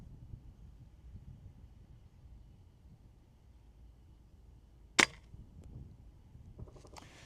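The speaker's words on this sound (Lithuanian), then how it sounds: "Nu ir trečias šūvis." A single sharp gunshot cracks out at a 44-metre shooting range challenge, a short isolated report amid quiet background hiss, followed by a few faint clicks and rustles.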